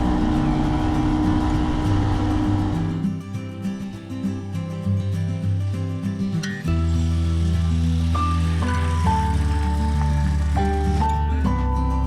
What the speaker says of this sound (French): J'aime me laisser bercer par le vent et le bruit de mon moteur.